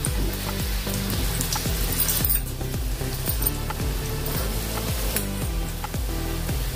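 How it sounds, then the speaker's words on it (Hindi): Spinach-pea dumplings sizzle steadily as they deep-fry in hot oil like pakoras, a loud, close, continuous crackle with soft repeated stirring clunks underneath. "पकौड़ी जैसी इसको तलना है।"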